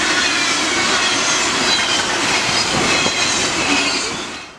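A train rolls past on railroad tracks, a loud, continuous broadband roar of wheels and rail cars with faint clickety-clack and wheel squeal, sustained close by and fading slightly at the end.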